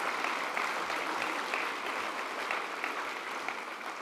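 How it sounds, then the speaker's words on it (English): Applause from an audience at an alumni awards evening honoring the tech crew, a steady dense patter of many hands clapping at moderate distance, continuous for the whole stretch with no voices standing out. "Will you guys stand up so we can be able to give you a round of applause?"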